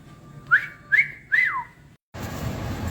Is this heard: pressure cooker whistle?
yes